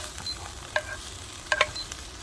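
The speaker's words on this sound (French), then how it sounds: "Je verse dans l'assiette." Cooked vegetables slide from a pan onto a plate, giving a few sharp clattering scrapes, one early and a quicker cluster later, over a low steady kitchen hiss.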